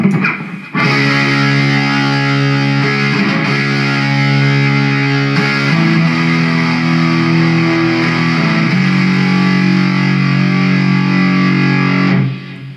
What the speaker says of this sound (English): So with distortion it sounds like this.